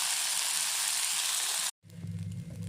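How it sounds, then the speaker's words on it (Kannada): Wheat flour dosa batter sizzles on a hot pan, a loud, dense hiss that stops abruptly, then returns as a quieter crackling fry. "ಗೋಲ್ಡನ್ ಬ್ರೌನ್ ಕಲರ್ ಬರ್ಪಿನ ಮಟ್ಟ ಫ್ರೈ ಆವಡು"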